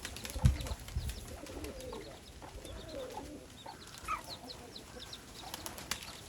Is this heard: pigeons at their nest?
yes